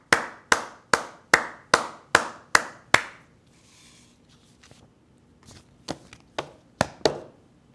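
Hands clap eight times in a quick, even rhythm, each one sharp and close. After a short quiet pause, a few more scattered claps follow.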